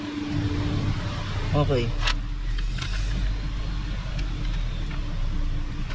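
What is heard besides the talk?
car engine with front wheel spinning in drive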